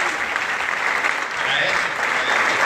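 Church congregation clapping hands during a sermon at an evangelical church in El Salvador, dense continuous applause from a crowd with voices mixed in.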